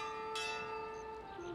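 A ship's bell rings aboard a vessel in the video game Pillars of Eternity II: Deadfire. A single clear, sustained metallic toll hangs and slowly fades, with no voices over it.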